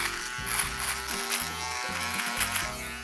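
Electric shaver passing over a beard after a OneBlade trim, a loud close buzzing motor whose pitch drops and rises as it presses into the hair, running without pause.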